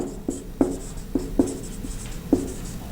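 Chalk or marker strikes a classroom board in short, distinct strokes as a teacher writes a definition, with several sharp taps and scratches spaced irregularly over a quiet room and no talking.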